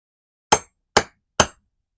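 Three sharp metallic whacks of a hammer strike a workpiece clamped in a Moxon vise, evenly spaced about half a second apart, each ringing briefly then decaying into silence.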